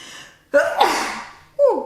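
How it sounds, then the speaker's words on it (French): A single sharp human sneeze bursts out after a brief intake of breath, loud and close, followed by a short breathy exhale. "Voilà, j'ai éternué."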